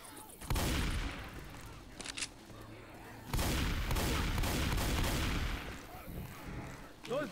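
Gunfire in the video game Left 4 Dead 2, loud heavy shots and blasts in long bursts with brief pauses between, a voice speaking faintly at times.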